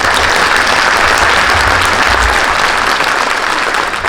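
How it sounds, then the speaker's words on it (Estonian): Audience in Jõhvi applauds Eesti Kontsert at a cultural event, a loud, dense and continuous roar of clapping from a large crowd filling the whole four seconds. "Teeme meie heale sõbrale Eesti Kontserdile aplausi."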